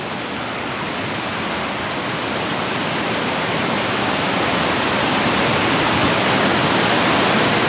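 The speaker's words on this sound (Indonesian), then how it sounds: "meskipun keadaan sungai di situ deras alirannya" A fast-flowing river at the foot of Mount Raung rushes in a dense, steady roar of water, loud and close throughout with no pauses or voices.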